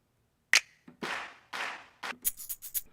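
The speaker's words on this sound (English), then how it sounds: "You got just different types of claps and snaps." Sampled claps and finger snaps from the Loop Elements Deluxe kit play one after another, sharp dry hits with short gaps, a single crisp snap first and then a run of broader claps and quicker snaps, with no voices.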